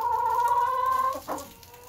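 A broody hen in a coop gives a sustained, nasal, rising complaint, then a short throaty cluck, close and fairly quiet.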